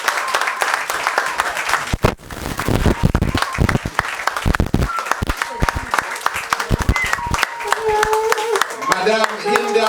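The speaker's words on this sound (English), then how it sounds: "let's give a round of applause for Her Excellency, Madame Maureen Hinda Madueke" Audience applause at a Ministry of the future 8th anniversary event for a guest of honour, Her Excellency, a steady wash of clapping that thins briefly, with voices and some tonal sound emerging near the end.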